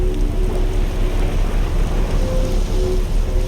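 Steady rain and flowing water in the video game Outer Wilds, a dense, even wash of noise holding level throughout with a faint tonal hum beneath, no voices.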